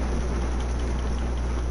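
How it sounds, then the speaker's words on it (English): Heavy rain in a Minecraft game world, a steady, loud, even hiss that fills the whole stretch with no pauses and no voices over it. "The rain's getting very loud right now."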